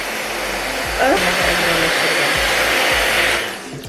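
A hair dryer blows steadily and loudly on freshly washed quick-weave hair, its airflow roaring continuously with a slight surge in pitch partway through before easing off at the end.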